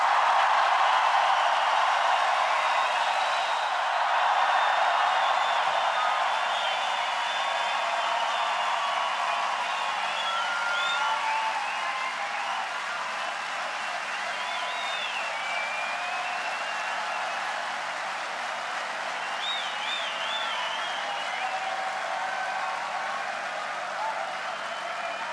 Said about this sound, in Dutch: mag ik hem woest en uitzinnig applaus voor Mr.